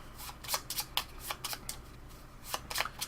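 Cards from the Eight-Minute Empire: Legends board game are shuffled up close in a series of quick, crisp riffling bursts, with short pauses between them.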